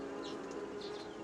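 Honeybees buzz steadily and close by, a continuous droning hum with faint wingbeat swells, alone without any voices.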